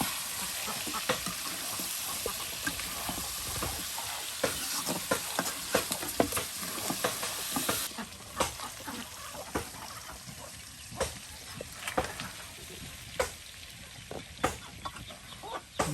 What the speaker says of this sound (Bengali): এই যে মাংস কিন্তু একদম পেঁয়াজের সাথে ভাজা ভাজা করে নেওয়া হলো